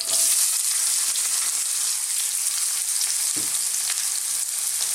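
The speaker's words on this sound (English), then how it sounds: "What we're going to do now is add some onions." Onions sizzle steadily in a hot pan for a lamb chilli fry, a loud continuous hiss with faint stirring scrapes and one soft knock partway through.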